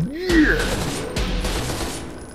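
Pistol gunfire in the survival horror video game Paranoia 2 rings out as a quick volley of sharp shots, with game sounds and voices mixed in around them.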